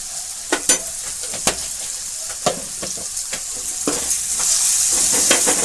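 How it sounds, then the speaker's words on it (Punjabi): Fenugreek, turmeric and other spices fry in hot oil for a tempering, sizzling continuously while a spoon scrapes and stirs the pan in sharp irregular clicks, close and fairly loud. "ਇਸੇ ਤਰ੍ਹਾਂ ਸਾਰੀਆਂ ਚੀਜ਼ਾਂ ਨੂੰ ਭੁੰਨ ਲੈਣਾ ਚੰਗੀ ਤਰ੍ਹਾਂ ਇਹ ਤੜਕਾ ਹੋ ਗਿਆ ਆਪਣਾ ਤਿਆਰ"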